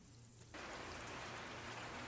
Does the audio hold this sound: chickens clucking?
no